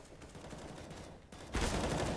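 Gunfire in Counter-Strike on the Nuke map, a dense burst of automatic shots rattling through the clip and swelling louder near the end, with no voices over it.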